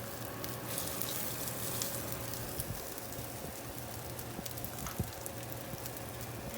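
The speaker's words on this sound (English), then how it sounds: "I'm going to start by putting 2 hash brown patties in the skillet" Two hash brown patties sizzle in a skillet for a cowboy breakfast, giving a steady, close frying hiss with crackles and pops throughout.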